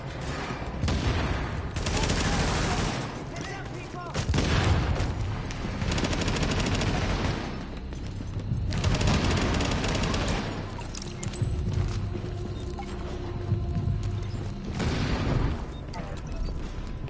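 Gunfire in The Division video game: repeated bursts of automatic weapon fire and fusillades come in loud waves across the scene, with game voices talking over parts of it.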